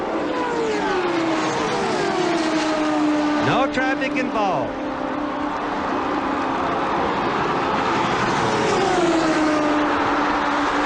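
CART Indy race cars scream past on the backstretch at about 223 miles an hour on the last lap, their engines rising and dropping in pitch as they pass, under a race commentator's excited talk.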